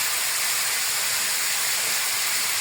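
Carrots stirred and frying in a pot for Saudi lamb kabsa, producing a loud, continuous hissing sizzle up close, steady throughout with no voices.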